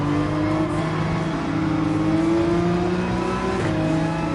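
Race car engine held at full speed in Gran Turismo 7, a steady high-pitched drone with rising and falling harmonics that runs unbroken and loud from start to finish, with no voices over it.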